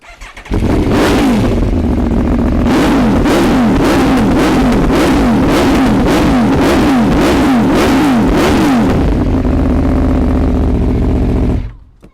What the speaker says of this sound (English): The big kid in me just can't resist firing up this V4.